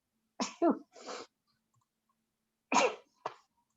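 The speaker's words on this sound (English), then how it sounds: "Excuse me, I'm gonna sneeze." Two quick bursts of sneezing, a pair of sharp explosive sounds, then a pause and two more, close and fairly loud in a quiet meeting room.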